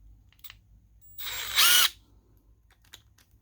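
A Milwaukee M12 Fuel installation driver runs in one short burst of under a second, rising briefly in pitch and loudness before stopping, close up in a quiet room.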